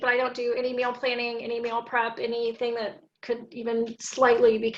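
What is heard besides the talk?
No everyday noises stand out.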